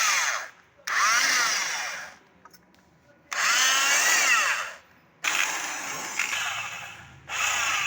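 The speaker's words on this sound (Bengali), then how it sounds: "তো আমি এখন এটাকে পালিশ করব, তো দেখি কীভাবে হয়।" A power tool polishing a part from a Honda Aviator scooter engine, loud whirring bursts in three long runs with short pauses between them, close up with no talk.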